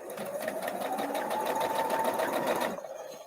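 A sewing machine stitching a quilt block of 6-inch squares, running steadily with a rapid, even mechanical rhythm for a few seconds before stopping abruptly.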